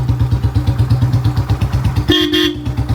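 A motorcycle idles with a rapid, even engine putter, then a horn sounds sharply near the end, close and loud.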